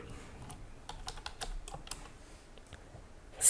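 Quiet, close keystrokes on a computer keyboard as a campaign name is typed, arriving in an uneven run of light clicks with a brief louder clatter at the end; no one speaks.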